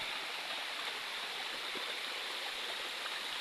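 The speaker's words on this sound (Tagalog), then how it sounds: "Yung falls dito guys." A waterfall pours into a shallow stream, a dense steady rushing roar that stays loud and close throughout with no speech.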